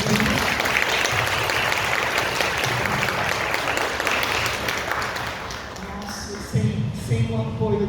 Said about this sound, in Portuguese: E gostaria de pedir uma salva de palmas para o Camilo.